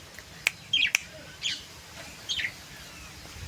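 Pigeon chicks give a few short, high chirping calls in scattered bursts, fairly close but faint, over a low background rumble.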